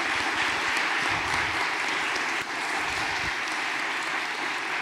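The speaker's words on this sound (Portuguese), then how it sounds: "dá uma salva de palmas a Jesus" A church congregation breaks into dense, sustained applause, loud and close, a steady wash of clapping with no voices over it.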